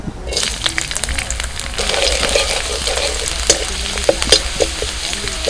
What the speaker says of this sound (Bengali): কড়াইতে সামান্য একটুখানি সাদা তেল আমি দিয়েছি ওর মধ্যে দিয়ে দিচ্ছি রসুন কুচি